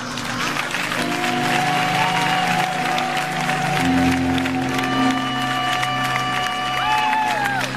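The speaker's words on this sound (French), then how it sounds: "Applaudis-la pour moi, s'il vous plaît." A crowd applauds continuously, steady clapping with some cheering, while music with sustained tones plays throughout.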